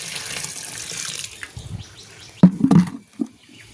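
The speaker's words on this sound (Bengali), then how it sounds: "এবার আমি জল দেব।" Water poured onto soil, a steady trickling pour at first, then a few louder splashing gushes near the end, close by and without talking.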